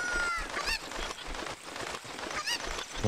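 A chicken in Zelda Ocarina of Time gives repeated honking, squawking clucks in quick succession, loud and close over a busy game soundscape with no talking.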